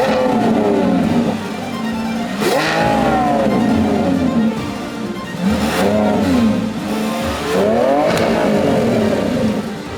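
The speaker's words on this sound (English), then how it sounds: "let's hear a couple revs with the factory exhaust system." A Lamborghini Revuelto V12 engine with its stock factory exhaust revs up repeatedly, rising and falling in pitch over several throttle blips, loud and close, with a fairly muted exhaust tone.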